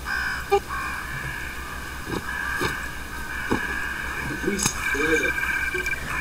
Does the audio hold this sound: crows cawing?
yes